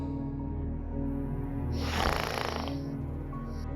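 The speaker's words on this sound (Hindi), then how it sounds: "ये तो खर्राटे लेता है।" A sleeping man snores with one heavy, rasping breath that swells and fades over a couple of seconds, close and moderately loud over a steady background tone, without speech.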